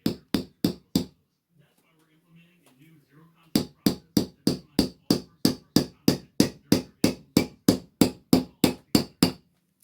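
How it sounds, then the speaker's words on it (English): Small clippers used as a hammer to tap a yard decor stake into the ground, a quick run of sharp clicking knocks, a pause with faint soft noises, then a long even series of rapid taps. "clippers here and I'm just hammering it in like that."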